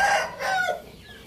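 A Parrot Beak Aseel Longtail rooster crows close by, a short, harsh call rising and breaking off, with no other sounds around it.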